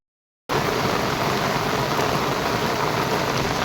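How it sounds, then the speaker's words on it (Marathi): After a brief silence, heavy rain starts at once and pours steadily, a loud, dense wash of noise that continues without break. "जोरात पाऊस आलाय"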